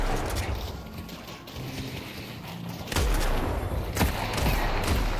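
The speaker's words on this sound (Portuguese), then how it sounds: "Mano, a mulher não para de atirar em mim" An enemy hero firing at the player in the video game Deadlock, steady rattling gunfire with sharper impacts and mechanical clatter, loud and continuous, growing denser in the second half.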